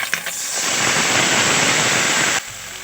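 Ground onion, green chili and mustard paste hits a pan of frying fish with a loud, steady hissing sizzle that lasts about two seconds, then drops away abruptly.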